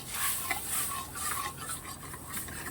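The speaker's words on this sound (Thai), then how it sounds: "เราก็จะคนไปเรื่อยก่อนให้ กะทิของเราแตกมันออกมา" A spoon scrapes and stirs steadily through coconut milk in a pan over medium heat, with soft continuous swishing and faint sizzling, close up and without voices.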